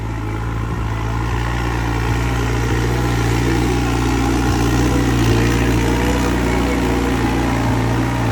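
A farm tractor idles with a loud, steady low throb that holds unchanged throughout, close up and with no other sounds breaking through.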